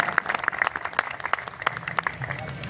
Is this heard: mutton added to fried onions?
no